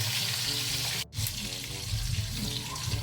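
Tambakol fish fries in a pan with a loud, continuous crackling sizzle close by, briefly dipping for a moment before the steady spatter resumes.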